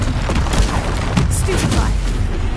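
A Confringo fire spell blasting in Hogwarts Legacy: loud, dense booming bursts and crackling impacts in rapid succession, close and forceful, mixed with a busy game soundtrack.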